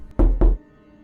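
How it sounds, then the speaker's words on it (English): Two quick, hollow knocks sound close and loud on a wall, evenly spaced, followed by near silence. "I hear the knocking coming from his side of the room again."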